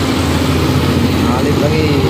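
A Colt diesel truck overtakes on a steep hill road at Bukit Kodo, its engine a steady, close, continuous roar that fills the whole stretch, with voices speaking over it.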